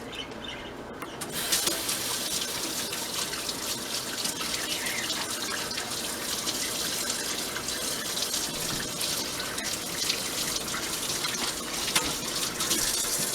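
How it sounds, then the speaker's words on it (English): Tap water runs steadily into a sink as hands are rinsed under it, a continuous close gush of broadband splashing that starts suddenly and holds for the full length with no talking, during pumpkin pie preparation in a home kitchen. "Let me rinse my hands off."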